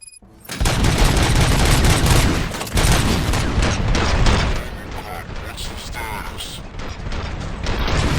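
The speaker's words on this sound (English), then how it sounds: "Gunshots?" Gunfire in the video game Robocop Rogue City: a dense, loud burst of rapid shots and mechanical clatter that runs nearly continuously, easing slightly partway through, with no talk over it.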